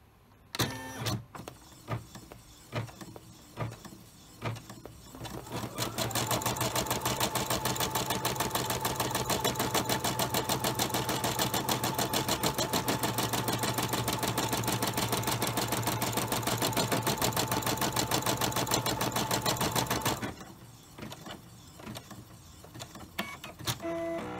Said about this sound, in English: I'm just going to let it stitch out